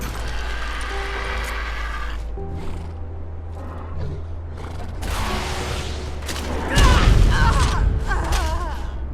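In the Ark video game on Scorched Earth, rockets blast against a stone wall, producing heavy rumbling booms and crumbling crashes over a low droning game background, loud and close, with a stronger impact surge near the end.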